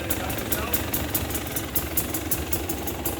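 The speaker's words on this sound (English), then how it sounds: "it's going to start up, it's going to idle" A 2020 KTM 300 XC TPI two-stroke dirt bike engine idles with a loud, steady, close-up rattling putter, while someone talks over it.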